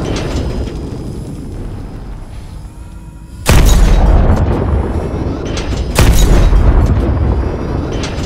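Missiles fired from a hovercraft tank during a Call of Duty: Advanced Warfare battle explode in two loud, deep booms, each followed by a long rumbling roar over steady battlefield noise.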